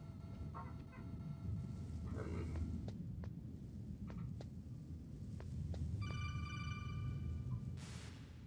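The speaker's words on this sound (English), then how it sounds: "Phone call." A phone rings in Metal Gear Solid, a steady electronic trill that arrives late, after scattered clicks and beeps over a low, constant drone of background ambience.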